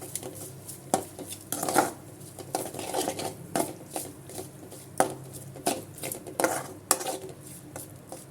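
Goat brain being stirred with a little water in a pan for a brain and egg fry, with a spoon scraping and clattering against the metal in irregular close knocks over a soft simmering patter.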